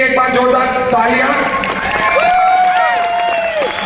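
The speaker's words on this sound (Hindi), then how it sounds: "तो सबसे पहले तो इनके लिए भी एक बार जोरदार तालियां" An indoor audience at a business event gives loud applause for a guest, a dense, continuous wash of clapping mixed with crowd cheers and shouts, steady throughout at close range.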